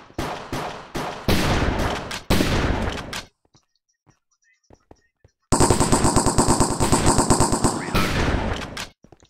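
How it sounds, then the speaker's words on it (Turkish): Gunfire from a pump shotgun in a Minecraft game styled like CS:GO. Loud, close shots come in several quick bursts, then a near-silent gap with a few faint clicks, then a long rapid run of firing. "Adama sıkıyorum pompalıyla."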